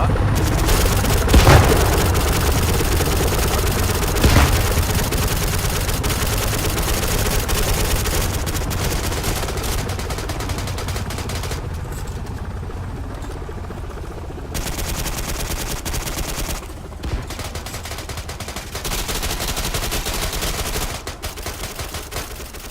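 Video game combat with an explosion and gunfire: a dense, loud barrage of rapid shots and booms rolling continuously, with a few sharp blasts standing out early, thinning to sporadic bursts later.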